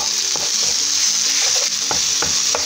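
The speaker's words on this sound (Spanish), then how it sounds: "vamos a dorar bien estos 2 ingredientes" Onion and a spoonful of garlic fry in a pan for a chickpea and spinach dish, a constant bright sizzle with a few scraping stirs and taps, close and fairly loud, no talking.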